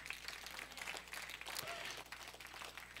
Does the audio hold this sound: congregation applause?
yes